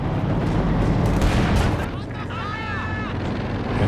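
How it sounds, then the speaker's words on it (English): Company of Heroes 2 artillery barrage pounding a position: continuous dense booming and rumble throughout, with a whistling shell tone partway through. "Major artillery on the AT guns"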